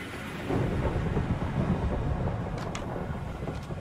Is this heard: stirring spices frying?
no